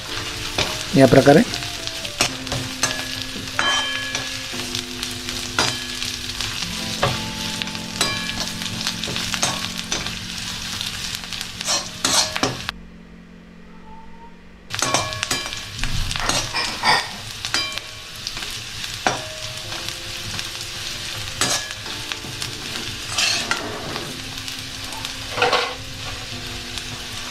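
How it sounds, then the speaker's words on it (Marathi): Half a spoon of poppy seeds roast in a pan while making traditional Maharashtrian chivda, giving a continuous dry sizzle with scraping stirs and clinks, a short quiet gap midway, and a brief spoken phrase. "आता ह्यात मी अर्धा चम्मच खसखस टाकतोय. याला सुद्धा छान भाजून घेणे"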